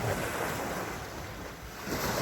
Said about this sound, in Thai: ฟังเสียง คลื่นทะเลนะครับชัด